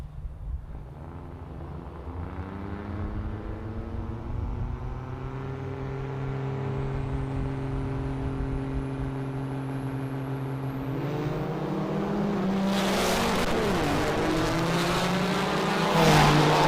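Diesel drag racing trucks in the 770 Super Diesel class at the NHRDA World Finals in Ennis, Texas, scream down the strip, engine pitch climbing steadily and growing louder before a harsh, noisy burst near the finish.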